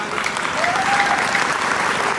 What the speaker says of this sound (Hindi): एक बार तालियां उठाइएगा पीछे